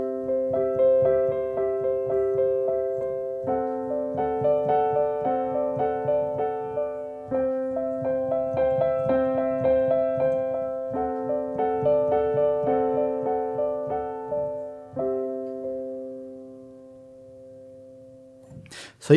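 Keyboard chords voiced over a sustained C in the bass, each chord held and ringing for a few seconds before the next, soft and close with gentle decays and no voices.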